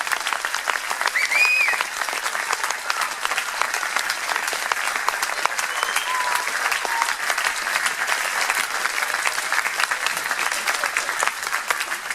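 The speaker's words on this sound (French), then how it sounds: "Je pense qu'on peut les applaudir" Steady applause from a crowd at a dojo martial arts gala for new black belts, dense and continuous clapping holding at an even level throughout, with no voices standing out.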